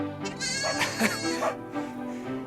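Cartoon sheep and newborn lambs bleating together in a close, steady chorus of overlapping wavering calls that fills the whole moment, with no talking over them.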